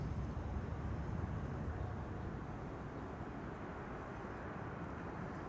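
A KLM airliner departs runway 24 (Kaagbaan) at Amsterdam Schiphol, heard as a faint, distant, steady jet rumble that fades slightly over a few seconds with no talk.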